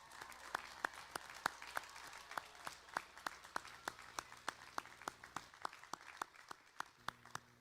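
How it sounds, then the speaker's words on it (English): Audience at a university commencement applauds the graduating class and faculty, sounding faint and distant, with sharp individual claps ringing out steadily over a soft crowd wash for several seconds. "please help us celebrate the class of 2026 with a well-deserved round of applause"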